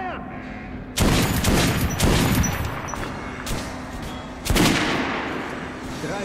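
Kalash rifle fire in the video game Metro Last Light, loud sustained bursts of rapid shots, one starting at around a second in and another after a pause, with a hum under them.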